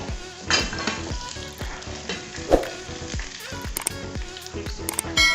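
Sliced plantain fries in hot oil in a pan in an African kitchen, a steady close sizzle with frequent scrapes and clinks of a utensil stirring against the pan.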